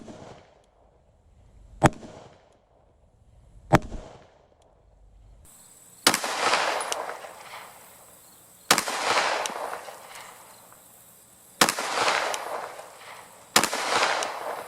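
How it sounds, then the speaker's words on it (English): Pistol shots ring out toward a target at 15 yards, with a Holosun 407C sight mounted. Two sharp cracks sound first, then four more spaced a couple of seconds apart, each loud and close with a short outdoor echo. "I'm going to shoot some towards center mass of the body,"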